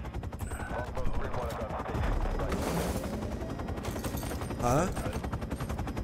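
Submachine gun fire in Call of Duty gameplay: dense automatic bursts crackle under game noise and explosions, with a brief spoken interjection over the shooting.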